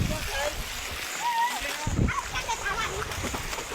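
Flowing hill river water splashes and gurgles steadily up close, with a brief voice over the rushing water.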